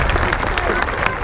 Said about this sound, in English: Round of applause for Sir Lancelot there for chivalry.